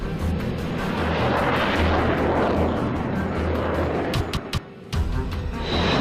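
Sukhoi Su-30 fighter jet flying past with a loud, broad engine roar that swells and holds, broken near the end by several sharp bangs.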